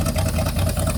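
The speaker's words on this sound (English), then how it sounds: "I give you one good sound clip of this exhaust one more time." Engine and exhaust of a 1978 Ford F150 with a welded-on aftermarket exhaust, running steadily with a loud, close, low rumbling drone and no pauses.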